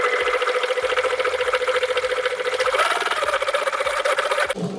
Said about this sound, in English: once I'm at the edge, I'm going to pivot and then I'm going to sew the next line